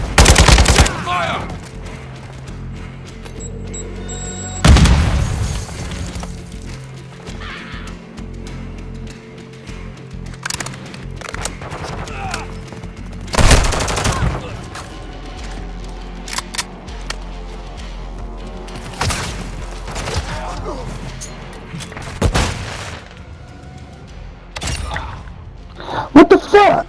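Gunfire and explosions in Call of Duty: Modern Warfare II, with bursts of automatic weapon fire and several loud booming blasts spread through a busy battle soundscape, voices shouting now and then.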